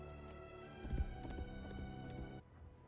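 Faint clip-clop of horse hooves beneath a dense bed of sustained music, the steps blending into the orchestral background of a scene from The Rings of Power.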